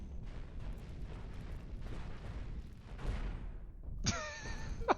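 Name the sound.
cannon fire and explosions on starship in video game Cosmoteer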